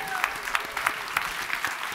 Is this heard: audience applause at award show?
yes